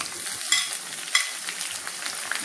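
Ingredients for mulaku chammanthi roasting in a hot pan, a continuous close sizzle with stirring scrapes and small louder flares.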